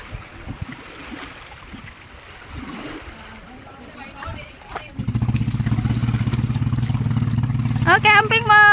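A pump boat engine starts up partway through and runs loud and close with a steady low throbbing drone, following quieter water sounds and muffled talk, with voices rising over the engine at the end.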